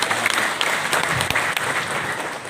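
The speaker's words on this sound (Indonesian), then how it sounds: "Tepuk tangan kepada Haji Presiden." Applause from the crowd at a mosque dome waqf launch event, honouring the president, dense and steady clapping for the whole stretch.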